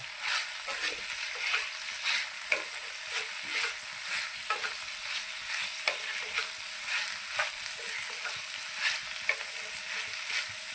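Green bean pods (ghevda) cooked with red chili powder sizzle and fry in a pan on low heat, with a spoon stirring and scraping in an irregular rhythm over the steady close sizzle; no talking.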